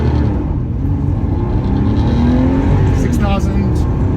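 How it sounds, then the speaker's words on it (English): Porsche 964 engine revving and accelerating hard, a loud continuous roar with rising pitch from close range, while a voice talks briefly over it. "that's how fast the motor itself gains revs"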